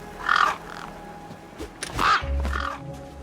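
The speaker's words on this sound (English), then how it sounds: "Damn birds!" A crow-like bird in the video game Beyond a Steel Sky caws twice, harsh and fairly loud, each call a pair of rasping notes over a low ambient game hum.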